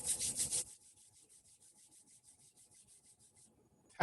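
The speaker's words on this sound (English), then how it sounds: "Once again, rubbing your hands together." Hands rub together briskly during a seated t'ai chi session, giving a short run of rhythmic swishing strokes up close, followed by near silence and then one more brief rub at the end.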